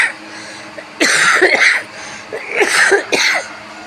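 Close, harsh coughing in two short bouts of two or three coughs each, with quiet breathing between them.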